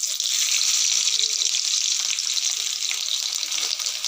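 Ginger and garlic frying in oil over popped mustard seeds for an egg roast give a steady, close, hissing sizzle that runs unbroken for the whole stretch, with no voices.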